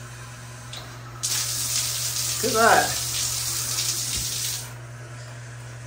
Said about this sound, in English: A shower there with hot water.